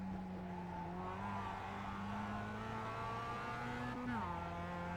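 Mazda MX5 race car engine in the iRacing video game at Summit Point, a steady droning hum whose pitch rises slightly, then dips and settles as the throttle shifts, heard with no talking over it.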